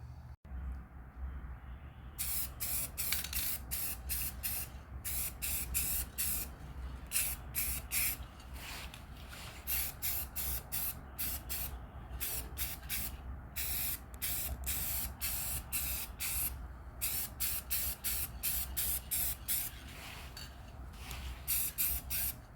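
Spray paint hissing onto a metal terra cotta heater stand in repeated short bursts, each lasting a second or so with brief gaps, over a low steady background hum.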